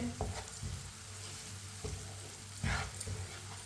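Ground spices fry with a soft, close sizzle in a pan on low heat as a spoon scrapes and stirs them in short, irregular strokes, with no voices.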